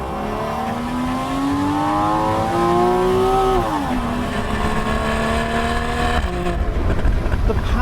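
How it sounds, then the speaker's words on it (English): A Porsche Boxster 981 with a naturally aspirated flat-six accelerates through the gears, its engine note rising steadily, dropping at each shift and climbing again, loud and close. "My favorite part is the engine. A naturally aspirated flat 6."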